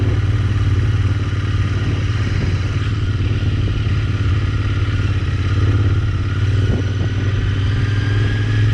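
A Royal Enfield motorcycle on a test ride, its engine thrumming steadily and loudly throughout with a constant low rumble and wind noise, no voices.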